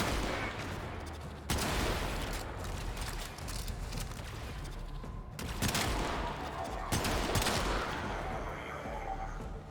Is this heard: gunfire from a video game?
yes